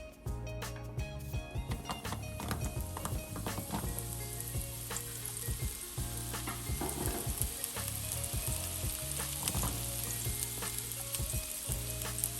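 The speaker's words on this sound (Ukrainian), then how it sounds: "додаємо туди наші печериці" Button mushrooms fry in olive oil for a lentil risotto with mushrooms and cheeses, giving a steady, close, loud sizzle with occasional stirring clatter throughout.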